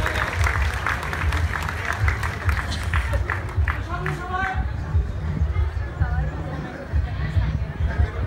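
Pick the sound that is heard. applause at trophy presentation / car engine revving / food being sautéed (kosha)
applause at trophy presentation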